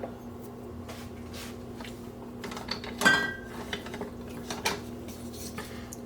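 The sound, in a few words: finely sliced garlic spread about in a pan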